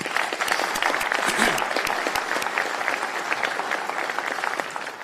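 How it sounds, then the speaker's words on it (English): Steady applause from a crowd at a police chief swearing-in ceremony, dense and continuous clapping at a constant level for the whole stretch. "So round of applause for Mayor Keisha."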